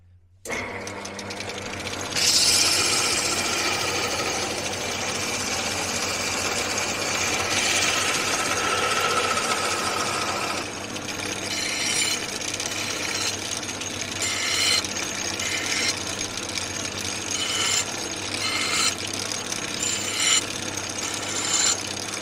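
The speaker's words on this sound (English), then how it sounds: "I'm just going to radius this one a bit, and then I'm going to drill the hole" Continuous scraping and rasping of a metal pannier mounting bracket being filed to a radius, steady and close, followed by choppier grinding bursts of drilling.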